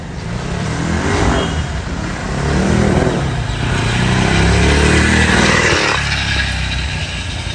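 Modified Bajaj Pulsar 220F motorcycle on a test ride, engine revving and accelerating in loud rising and falling sweeps with wind noise, close and continuous.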